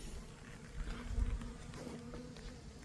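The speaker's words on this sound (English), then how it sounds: "I'm covered in bees." Faint buzzing of honeybees swarming around a nuc hive outdoors, a soft continuous hum with a brief low thump midway.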